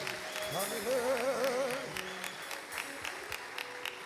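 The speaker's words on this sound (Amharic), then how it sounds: "እልልታ፣ ጭብጨባ ለጌታ" Church congregation applauding and clapping for the Lord, a sustained crowd of claps mixed with a high wavering ululation at the start, then fading to scattered clapping.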